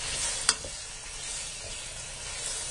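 Chicken tikka fries in a hot pan over a high flame, giving a steady close sizzle throughout with a single sharp clink of stirring early on.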